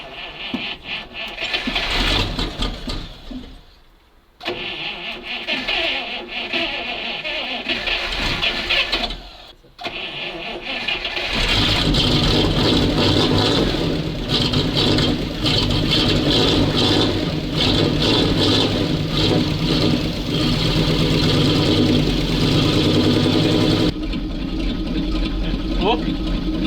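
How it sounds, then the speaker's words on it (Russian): An off-road truck engine runs at a high idle, loud and close, with a steady mechanical roar. It dips briefly twice, then holds a fuller, rougher drone for a long stretch, with voices occasionally over it. "Какие-то мега холостые обороты."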